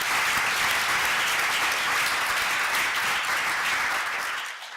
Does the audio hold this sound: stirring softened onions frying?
no